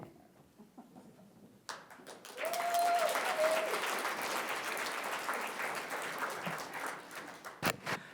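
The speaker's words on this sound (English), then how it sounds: "And can we give one more round of applause to Lottie?" A conference keynote audience bursts into sustained applause, steady and fairly loud for about five seconds, with a few scattered claps before and a brief tone in between.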